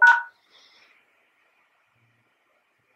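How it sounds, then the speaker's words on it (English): One short keypad tone rings out from a Yealink T46s desk phone, a crisp beep at the very start, then near silence follows. "Simply press *66 followed by the hash key."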